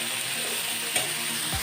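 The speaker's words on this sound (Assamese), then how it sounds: "এয়া মই শাকখিনি ভাজি আছোঁ।" Leafy greens (lai shak) fry in a pan with a steady crackling sizzle, punctuated by a couple of brief scraping stirs of a utensil, close and without talk.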